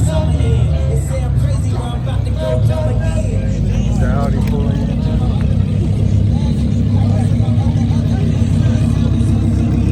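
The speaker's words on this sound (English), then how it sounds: "The Audi pulling in." An Audi pulls in at an exotic car meet, its engine a steady, fairly loud drone amid crowd noise and other idling cars, with people talking over it throughout.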